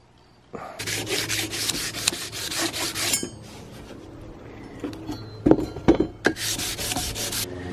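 Steady rubbing strokes of a cloth soaked in acetone wiping down a knife blade, a scramasax, in rapid repeated bursts, close and moderately loud, with a few sharper knocks and clicks partway through.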